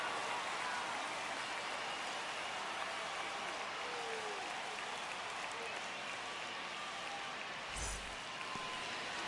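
A stadium crowd in MLB The Show 25 roars in a steady, dense wash of cheering and applause that fills the whole clip, with a brief thump near the end and no clear speech.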